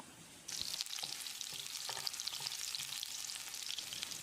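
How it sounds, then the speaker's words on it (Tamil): Sliced bell pepper drops into a hot pan and starts sautéing for chicken jalfrezi, a sudden bright sizzle that then holds steady with light stirring scrapes throughout. "ஒரு குடமிளகாயை நீல வாக்கில் நறுக்கியிருக்கேன். இதை போட்டு வதக்கிடலாம்."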